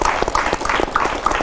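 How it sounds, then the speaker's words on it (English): Audience applause at a Town Square panel on drug abuse, a steady dense patter of clapping lasting a moment and heard alone. "A round of applause for Tabasa."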